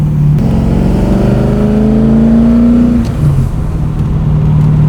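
LS V8 in a BMW E46 M3 revving loud and close, the note climbing steadily, dipping briefly as it shifts, then holding high revs, with no talking.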